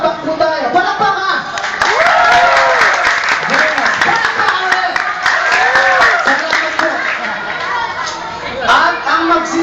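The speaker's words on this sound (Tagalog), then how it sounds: "Palakpak ka!" A barangay audience at a live talk-show-style event breaks into applause and cheering, sustained and fairly loud, while a voice carries on over the clapping throughout.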